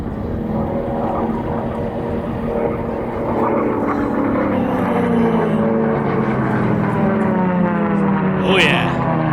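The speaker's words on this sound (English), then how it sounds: "all three of those airplanes are really putting out the power" Sport class racing airplanes at full power in a gold final race, with a loud sustained engine roar and propeller drone that rises and shifts in pitch as they pass, under a commentator's talk.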